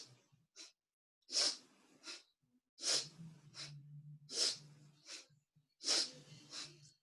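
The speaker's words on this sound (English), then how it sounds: "sharp inhales and exhales" Sharp, forceful breaths through the nose in a steady rhythm, quick bursts of air close up with short pauses between them.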